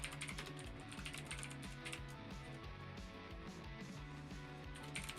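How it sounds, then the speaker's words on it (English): Loud computer keyboard typing fills the stretch, a dense run of rapid, close clicking keystrokes with no voices over it. "My keyboard is so loud."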